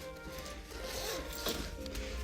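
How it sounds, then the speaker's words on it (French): A zipper on a storage bag slides open or shut with a steady, close rasping drag across about two seconds, a brief sharper scrape near the middle, no voices. "on a le sac avec fermeture éclair"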